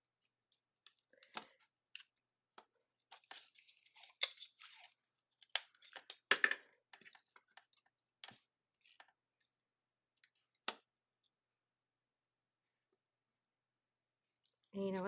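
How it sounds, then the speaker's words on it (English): Greeting cards taped to a die and fed through a die cut machine: a run of scattered clicks and crisp crunching snaps, close and fairly quiet, with a brief louder rumble right at the end. "so they'll fit in said die cut machine. And let's tape them in place and run these through real quick."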